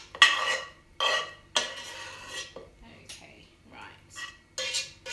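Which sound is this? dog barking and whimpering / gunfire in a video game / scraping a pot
scraping a pot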